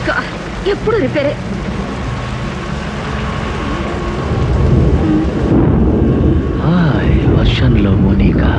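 Steady heavy rain with low rumbling thunder swelling louder midway, with music and voices layered over the downpour.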